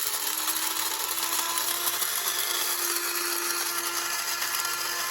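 A Kaffe electric coffee grinder runs through a load of Dunkin' Donuts coffee beans, giving a loud, steady high-pitched motor whine and gritty grinding that holds unbroken for the whole stretch, with no talking.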